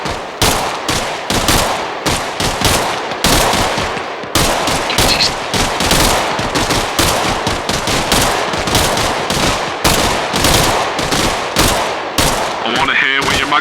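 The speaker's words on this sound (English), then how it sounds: "I want a base of fire towards my west. I want you rapid fire." Rapid gunfire in the military video game ARMA Reforger, loud bursts of automatic weapon fire repeating in quick, dense volleys with barely any pause.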